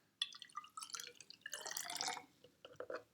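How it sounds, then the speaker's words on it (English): Water is poured back into a lab beaker in a classroom, giving a quiet run of trickles, splashes and drips against glass that stops and starts over a few seconds. "I can just pour the water back in"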